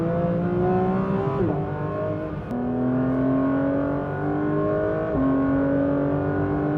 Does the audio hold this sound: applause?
no